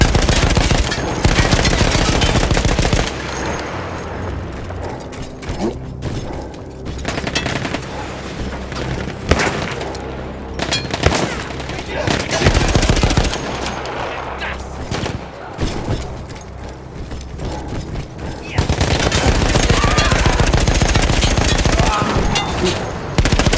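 Mounted machine gun firing in the Battlefield 1 game: loud sustained bursts of rapid gunfire with booming impacts, broken by short pauses, with voices and game sounds mixed in.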